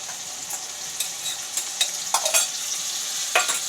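Onion frying in a pan while being stirred: a steady, close sizzle under scattered scraping and clinking of the utensil against the pan, with no voices.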